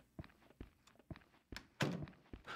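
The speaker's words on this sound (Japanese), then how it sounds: "なんかドア閉まってる音してるよね" A door thuds shut in the horror video game Rental, a series of soft, muffled knocks and thumps at low volume, with one heavier bang near the end, distant and quiet.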